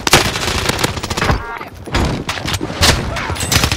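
Gunfire from a shotgun in the video game Call of Duty Warzone on Rebirth Island, several loud sharp blasts in quick succession amid other game shots, with voices talking over the action.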